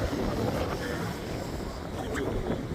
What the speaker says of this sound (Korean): 바다가 넘실넘실 파도가 조금 높은 편이고